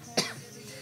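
A single short cough, close and fairly sharp, followed by quiet room tone.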